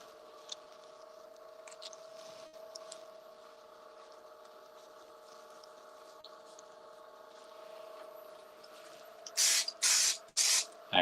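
Finish activator is sprayed onto a pen blank on a lathe in short hissing bursts near the end, four quick blasts close by over a steady low workshop hum.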